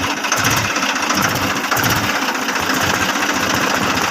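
A tractor engine runs close by at a steady, loud, chugging idle with a rapid rhythmic knock for the whole stretch, and no one speaks.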